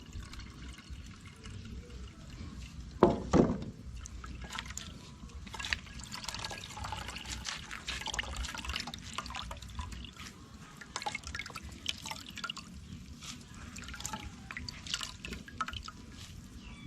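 Coconut milk pours and drips into a pot of rice and peas, a soft close trickle with one sharper splash early on and steady faint dribbling after, no talk over it.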